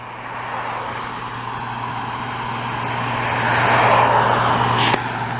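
Traffic on Rue Sherbrooke in Montreal's Mercier-Hochelaga district, a continuous broadband road rumble with a steady low hum that swells as a vehicle passes close around the fourth second, then a brief sharp click near the end.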